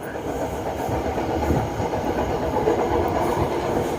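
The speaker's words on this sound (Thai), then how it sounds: "รถไฟก็เร่งความเร็วขึ้นนะครับ" A passenger train on Bangkok's electric Red Line accelerates through a curve, rumbling steadily along the rails, a dense continuous roar with faint rhythmic clatter, close and loud throughout.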